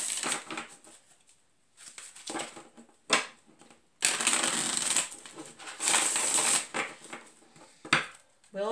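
Tarot cards are shuffled in bursts of papery riffling and rustling, with soft taps between the bursts, close and intimate.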